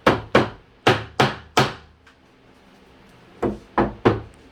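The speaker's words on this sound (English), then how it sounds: "Now I need the rubber mallet." A rubber mallet knocks against the wood of a vintage storage bench under repair, with eight sharp, close thumps: five in quick succession, a pause, then three more.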